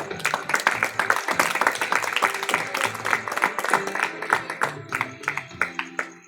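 Church congregation bursts into strong applause, dense rapid clapping from many hands filling the room, with music or voices underneath, thinning out toward the end.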